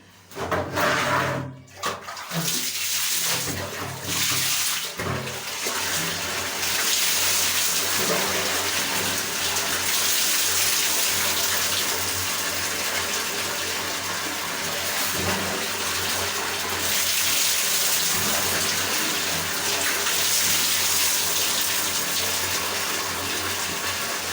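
Water gushes continuously from a tap during a hair wash using Sreegon hair products, a loud close rushing stream that holds steady for over twenty seconds after a few brief breaks at the start.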